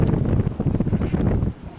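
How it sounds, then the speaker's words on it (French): Strong storm wind blows outdoors and buffets the microphone in a rough, gusty low rumble for under two seconds, then drops off abruptly near the end. "C'est juste du vent."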